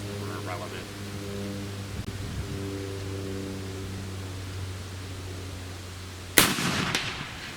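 A single loud shot from a Pedersoli 1861 Springfield muzzle-loading rifle at a shooting range, cracking sharply near the end after a long steady hum, with a short ringing decay.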